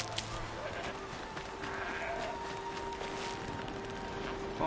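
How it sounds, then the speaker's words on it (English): Bleating of a large goat in the open world of Horizon Zero Dawn, a few wavering calls at moderate distance over steady ambient game wind, with no talk. "Oh, it's a goat. That's a fat ass goat."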